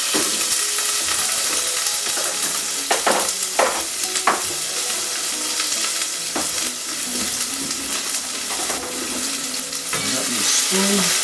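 Chili olive oil and hotpot seasoning sizzle steadily in a pot for a Sichuan hotpot at home, with a dense hiss throughout and a few sharp crackles and utensil scrapes, close and loud, with no talking.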